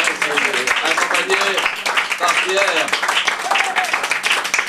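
Applause from a small audience at a cabaret evening, scattered claps running under someone speaking French over it.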